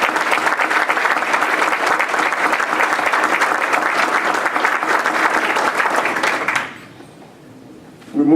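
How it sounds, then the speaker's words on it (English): An indoor audience at a Rockdale County government meeting gives the sheriff and his team a loud, sustained round of applause. It stops abruptly after about six seconds and leaves a quiet room before a voice begins. "give the sheriff and his team a wonderful round of applause"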